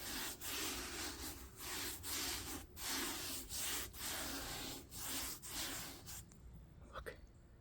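A paint roller spreads gritty non-skid deck stain in repeated rough rubbing strokes, about ten close passes in a steady rhythm before the motion trails off, with no talking.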